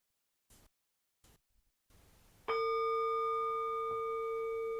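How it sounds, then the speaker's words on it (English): A meditation gong rings once with a bright metallic strike, then a sustained shimmering tone holds steadily and clearly to the end, following a few faint soft knocks. "Click the gong."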